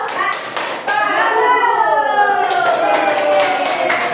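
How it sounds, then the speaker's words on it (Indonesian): A class of children performs a thumb-clap cheer for group 1 in a classroom, rhythmic taps mixed with the kids' voices chanting along in unison. "Ayo berikan tepuk jempol untuk kelompok 1"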